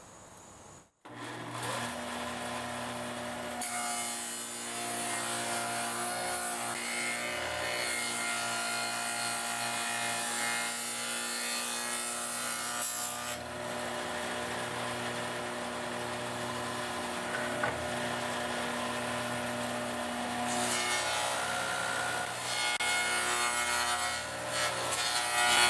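A table saw cuts a dado across a wooden box piece, a steady loud whining blade with a rough rubbing, rasping tone. The cut runs continuously for about 25 seconds, with slight shifts in pitch as the wood feeds through.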